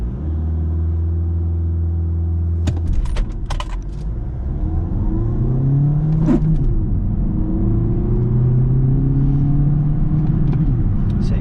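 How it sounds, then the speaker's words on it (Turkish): A 2013 VW Golf 7 1.6 TDI Highline diesel hatchback with manual gearbox accelerates hard from a standstill, its engine note droning and rising steadily, dipping briefly at gear changes, with wind and road rumble growing loud throughout. "Kısa bir 0-100 hızlanmasını deneyeceğiz."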